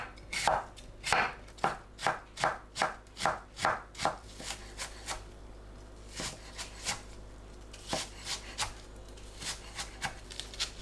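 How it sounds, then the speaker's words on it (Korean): A knife finely slices onion and apple into short thin strips on a board, with a quick, evenly spaced run of crisp chops followed by sparser, lighter cuts. "양파, 사과를 곱게 채 썰고 짧게 잘라줍니다."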